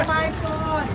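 Tourist boat out on the water in Thailand, with a broad rushing wind and water wash and a brief tonal whine, close and steady over one second, and a voice briefly present.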